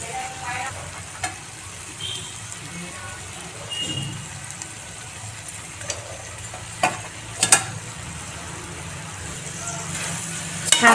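A spoon stirs chana usal with coriander in a pan, producing a faint sizzle under quiet scrapes and a few sharp clinks against the metal, with low background noise.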